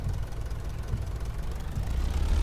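A tractor engine idles in a survival farming video game, a low, steady rumbling drone that holds evenly throughout with no voices over it.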